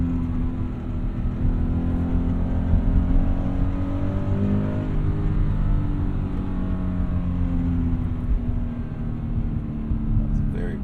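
A Toyota 86 revving high while driving, its engine note climbing and falling through the gears under continuous road and cabin noise, heard from inside the car with a voice speaking over it.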